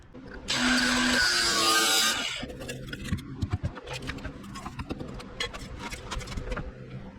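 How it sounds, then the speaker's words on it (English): Power tool cutting out and cleaning rusted metal on a Jeep XJ frame: a loud, high grinding burst near the start for about two seconds, then lighter clattering and tool noise that carries on to the end. "I got that piece of frame cut out, and I got the metal all cleaned up"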